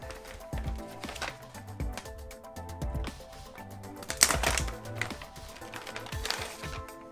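A box holding LED tape, a control unit and a remote is opened by hand, with crinkling plastic, cardboard flaps and scattered clicks and rustles in an irregular rhythm, close and moderately loud.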